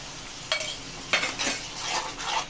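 A spoon scrapes and stirs spice masala paste for egg kalia in a pan, making several rhythmic scraping strokes with light clinks over a low frying sizzle, close and moderately loud.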